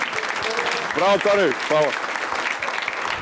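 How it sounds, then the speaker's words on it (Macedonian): A studio audience on a Macedonian talk show applauds in a steady wash of clapping, while a voice calls out a few words over it. "Ама заслуживте. Аплауз."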